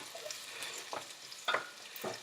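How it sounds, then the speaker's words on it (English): Turkey bacon frying in a pot, stirred with a few soft scraping strokes over a faint, low sizzle, quiet and close. "All right, so I'm stirring this up."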